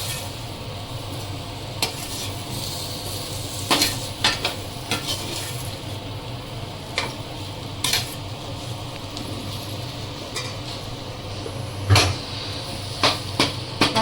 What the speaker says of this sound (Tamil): உருளைக்கிழங்கை போட்டு ஒரு வதக்கி விட்டு